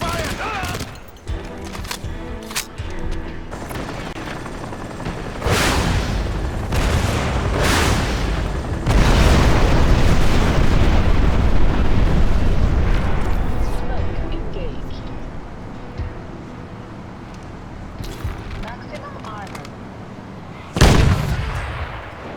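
Gunfire and explosions from the video game Crysis: rapid bursts of shots and heavy booms, loud and close, with a voice speaking at times over the combat.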